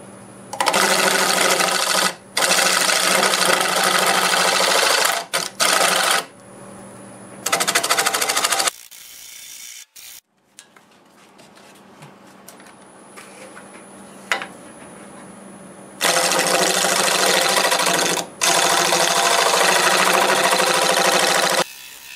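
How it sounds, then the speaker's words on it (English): Lathe turning a cherry plum and epoxy blank with a round carbide tool: loud bursts of steady cutting noise broken by short pauses, with a quieter, softer stretch in the middle before the cutting resumes. "I'm using my round carbide because I hate turning epoxy with my good chisels."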